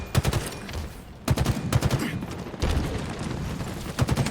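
Bulldog gunfire rattles in rapid bursts during a competitive video game match, with dense automatic shots layered under fast commentary from a caster.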